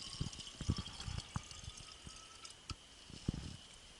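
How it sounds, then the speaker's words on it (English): Filtered water pours and trickles into plastic bottles at a survival training camp, with soft splashing bursts and light knocks of the bottles, faint and close with no talking. "I'm going to pour this filtered water into these bottles, filling up the bottles"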